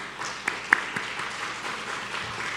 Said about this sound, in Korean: 네, 박수 한번 하겠습니다.